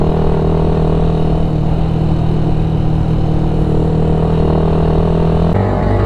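A motorcycle engine runs loud and close with a steady, droning rumble, shifting pitch briefly near the end as if revved.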